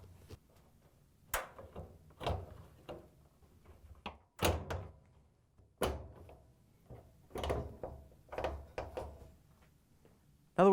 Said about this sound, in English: then we can put the bulkhead in place and lock the tabs into the cabinet